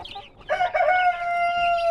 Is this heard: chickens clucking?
yes